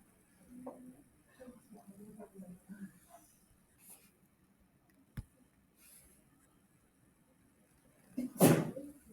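A single sharp sneeze bursts out near the end, loud and close, after quiet scattered talk in a room.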